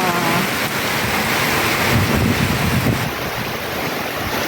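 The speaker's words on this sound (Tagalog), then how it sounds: "Grabe ang lakas ng hangin." Strong wind roars through a night of heavy rain, a loud, continuous rushing wash with gusty swells and no voices.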